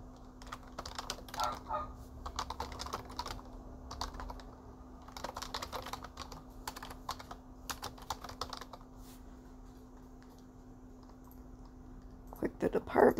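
Typing a product title on a computer keyboard while adding artwork to Zazzle products, with steady clusters of key clicks in bursts and pauses over a low constant hum, fairly close and moderately loud.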